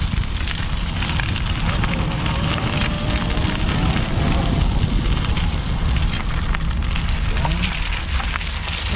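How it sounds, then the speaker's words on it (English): Electric trike riding off-road over gravel, with a steady rough crunching and grit pattering against the fender, mixed with wind rush on the microphone and continuous throughout. "Here's some gravel getting in that fender a little bit."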